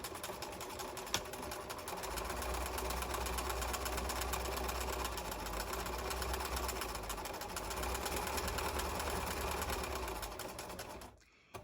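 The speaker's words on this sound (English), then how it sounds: "I'm going to sew and do a back stitch there and a 1/4 inch seam allowance all the way around" A sewing machine runs steadily on a quarter-inch seam with a back stitch at the end, a continuous close, even whir for about ten seconds before stopping abruptly.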